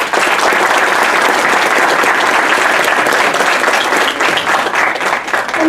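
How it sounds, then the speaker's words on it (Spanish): An audience at a presentation event gives a sustained round of applause, loud and dense clapping from a roomful of people that holds steady for several seconds with no talk over it. "Recibámoslos con un aplauso,"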